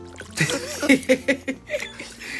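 Ducks splashing and sloshing in water in a quick series of bursts, close by, with a few squawky or snorting sounds mixed in.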